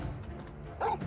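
A dog companion in the video game Final Fantasy XVI gives a short bark near the end of a brief, quiet stretch of in-game sound.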